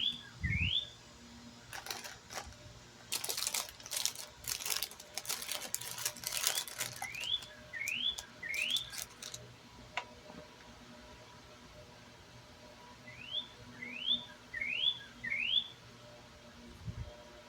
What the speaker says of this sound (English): Just hear the beautiful birds singing out behind us.